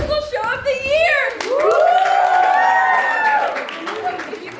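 An audience at a Cheap Socks improv musical show claps briefly, then sings out in sustained, wavering tones that imitate the applause. The crowd voices are loud and near and fill the rest of the moment.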